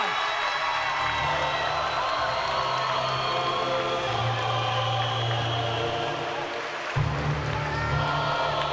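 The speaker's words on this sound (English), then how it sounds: "Please keep your applause going for his opponent, Caoimhin Murtagh" A boxing crowd at a Clan Wars fight night cheers, whoops and applauds after a unanimous decision: a loud, continuous roar of many voices and clapping that stays steady throughout, with a low hum running underneath.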